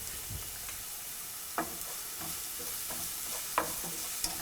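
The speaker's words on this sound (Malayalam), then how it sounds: "ചതച്ചു വെച്ചിരിക്കുന്ന വെളുത്തുള്ളി, ബാക്കിയുള്ള 1 തണ്ട് കറിവേപ്പില എന്നിവയിട്ട് നന്നായിട്ട് വഴറ്റുക" Onion, crushed garlic and curry leaves sauté in a pan with a continuous sizzle, broken by a spoon scraping and stirring at a regular rhythm every second or so, close up and without talk.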